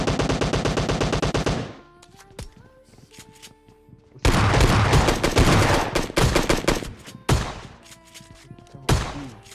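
Shotgun fire in PUBG Mobile Lite, a loud, close gunfight. A rapid burst opens, then heavy blasts come in dense clusters with echoing gaps between them.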